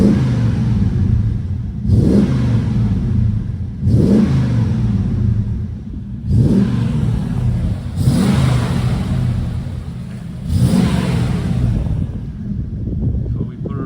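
A Triumph Stag's engine is revved repeatedly, about five or six rising blips every two seconds over a steady idle, close to the microphone with some wind noise.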